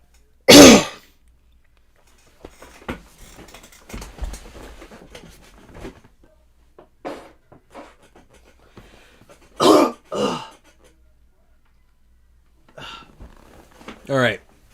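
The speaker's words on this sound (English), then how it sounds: "Gotta, like, clear my throat." Several loud, rasping throat-clearing bursts come close to the microphone, one near the start and a pair later on, spaced between quiet murmured speech.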